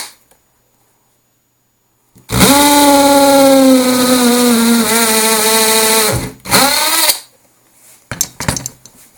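A power drill with an 8.5mm bit bores a hole through an amp cabinet, a loud close whine that sags in pitch under load, then a short second burst and a few faint clicks and knocks.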